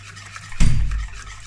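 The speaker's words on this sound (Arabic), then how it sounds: "هنحط السمنة على الزيت اهو، ونقلب كويس برضه." Ghee being stirred into oil in a bowl for a plain cake batter, a short burst of scraping and swishing that swells at the midpoint and fades, close and alone.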